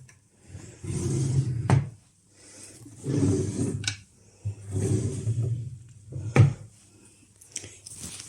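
Hotel room drawers slide open and shut three times, each a close, rumbling wooden glide ending in a sharp knock, separated by short quiet gaps.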